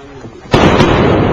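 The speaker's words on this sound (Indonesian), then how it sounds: "Seperti ini kurang lebih suaranya saat pesawat ini mengaktifkan sonic boomnya." A supersonic passenger aircraft's sonic boom hits as a sudden heavy blast, then holds as a loud, broad rumble after a short quiet lead-in.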